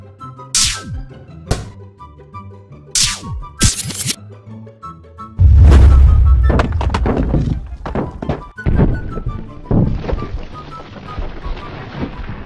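Animated 3D cannons fire cannonballs in a children's colour-learning cartoon: several sharp thunks ring out in an irregular rhythm, then a loud booming blast with a rumbling tail and continued clattering impacts.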